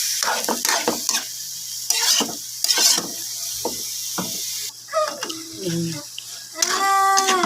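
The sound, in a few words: vegetables and pepper sizzling while cooking in a pan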